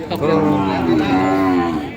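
A single long, loud moo from a cow at a cattle market in Yasothon, close and sustained for about two seconds.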